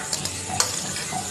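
Palm fritters (taler bora) fry in a pan of oil with a steady close sizzle, joined by a few brief stirring scrapes and one sharper clatter partway through.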